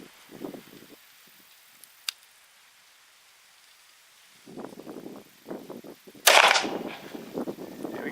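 A .45 Long Colt round fired from a Judge revolver, a single sharp crack with a quick, bright decay, set among quieter bumps and handling noises.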